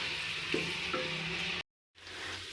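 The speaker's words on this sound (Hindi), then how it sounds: "प्याज हमारे ब्राउन हो रहे हैं।" Chopped onions browning in hot oil for beef korma, a soft steady sizzle with a couple of faint stirring knocks before a brief dropout, then quieter frying resumes.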